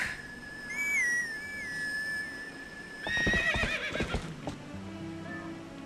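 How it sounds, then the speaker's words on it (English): Epona the horse neighs in The Legend of Zelda: Twilight Princess, heard as a high whinny with a whistle-like call, then a burst of galloping hoofbeats that draws close and slows, loud with no talk. "Let's go ahead and get Epona to get over here"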